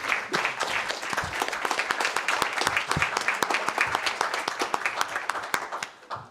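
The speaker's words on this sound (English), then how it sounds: "we can give a big round of applause." Audience round of applause closing a session at a design summit: dense, fairly close clapping from a seated room crowd, steady for several seconds before thinning out to a few last claps.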